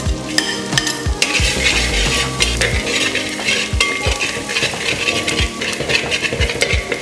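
Garlic frying in about 70 grams of melted butter in a pan: a loud, steady sizzle close by, broken by sharp spatula clinks and scrapes against the metal, with no voices.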